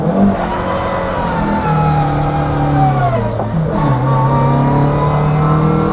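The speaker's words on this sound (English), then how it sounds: "Listen to that gearbox." Old-school JDM rally car with a straight-cut 4-speed gearbox, whining steadily as it accelerates through the gears, the engine drone loud and close throughout with a brief dip mid-way.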